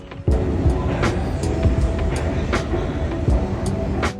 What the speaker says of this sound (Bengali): মেট্রো চলে এসছে